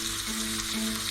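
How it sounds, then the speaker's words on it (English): Onions drop into hot ghee with cumin seeds and sizzle loudly in a close, dense, continuous hiss that fills the short moment without any speech. "Now in this ghee I'm gonna add the cumin seeds. In it I'm adding this onions"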